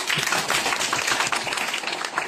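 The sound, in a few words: audience applauding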